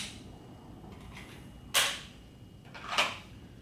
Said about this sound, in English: Going to lock the slide back,